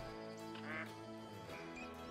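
Ducks, a drake and a hen, flying in low over a mountain hunting spot in New England give a rough, continuous chorus of quacks and nasal calls, fairly faint against steady background noise.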